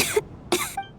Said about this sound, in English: Nope, just coughing.